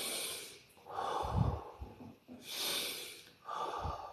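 Slow, deep breaths alternate between long airy inhales and exhales, close and audible with a slight snort-like edge, about three full cycles in four seconds with no speech.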